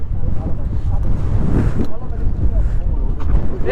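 Strong wind buffets a microphone on a boat in the Chalan Beel wetland of Natore, a loud, steady low rumble dominating the clip while a voice sounds faintly underneath.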